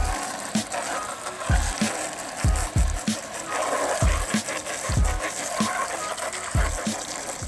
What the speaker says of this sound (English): take it to the hose pipe and give it a good rinse out